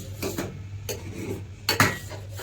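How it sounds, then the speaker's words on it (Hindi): Milk in a pot on a gas stove in a home kitchen, with a low steady burner hiss beneath a few sharp metallic clinks of a utensil against the pot, quiet and close, with no talking. "दूध उबल रहा है बड़े अच्छे से"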